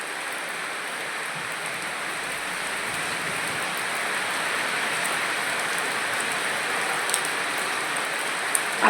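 Heavy rain from Cyclone Montha pours in a dense, unbroken hiss that stays steady and fairly loud throughout, with no voices.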